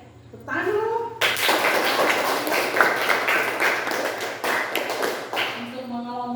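A class of schoolchildren bursts into clapping after a short stretch of voices, a dense, close patter of many small hands that runs for several seconds before fading back to talk.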